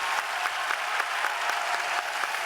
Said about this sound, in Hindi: जोरदार तालियां बजाओ सबके लिए